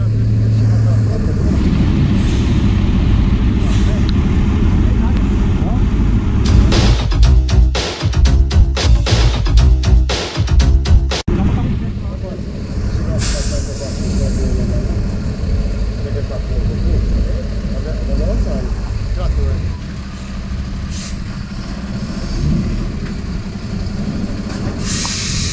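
A tractor engine idles and rumbles aboard a heavily loaded river ferry, a steady loud low drone with a burst of rattling clatter partway through, while people talk over it.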